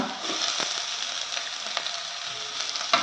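Crushed garlic, green chili and finely chopped onion sautéing in a pan, giving a soft, steady sizzle with a few faint clicks of stirring, close by and with no talk.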